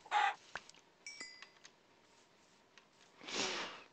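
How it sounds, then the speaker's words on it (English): Chickens in the video game Minecraft cluck in short bursts, a few brief calls spaced out over quiet gameplay with a louder flurry near the end. "So we're just gonna hunt chickens this whole episode."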